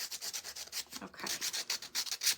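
Sandpaper rubs quickly back and forth over the edges of a craft piece to distress them, about a dozen short rasping strokes in a close, quiet, uneven rhythm with no talking.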